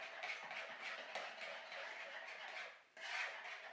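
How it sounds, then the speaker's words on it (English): A whisk or spoon scraping a bowl while lemon pie filling is mixed with egg yolks, with steady quiet rubbing strokes and a brief pause near the end. "Gotta mix that up good."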